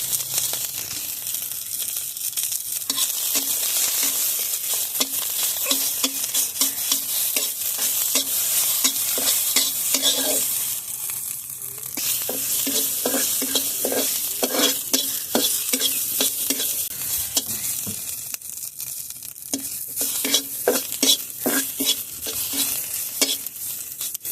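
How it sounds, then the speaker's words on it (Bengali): Ginger paste and garlic fry in a pan while being stirred, giving a steady loud sizzle with repeated scraping stirs throughout and no voices. "আদা বাটা আর কিছুটা রসুনের পেঁয়া দিয়ে ভেজে নেবো"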